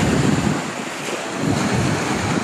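Ocean waves at high tide wash in steadily along a shore, a broad continuous surf hiss with gentle swells and some wind buffeting the microphone.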